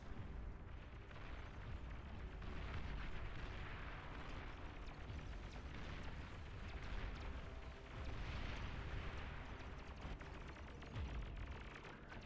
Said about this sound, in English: A bombing run coming out from Easy Raid